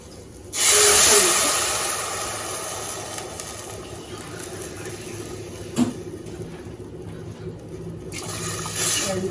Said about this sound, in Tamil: இப்போ வந்து தண்ணி சேர்க்கணும்